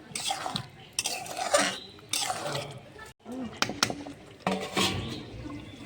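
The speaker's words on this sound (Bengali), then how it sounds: "এবার আমি একটু জল দিয়ে দিচ্ছি।" Water is poured into chicken liver and gizzard curry simmering in a pan, with metal clattering and stirring bursts from the pan and utensils at close range.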